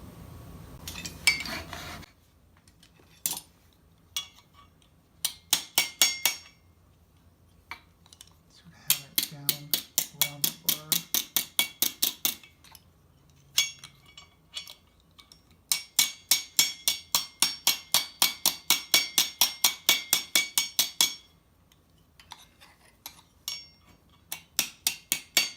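Metal crimping on the bottom plate of an armor helmet: bursts of sharp, rapid metallic taps and clicks in quick runs, close and fairly loud, separated by short pauses.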